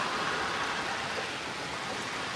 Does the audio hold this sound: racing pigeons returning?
no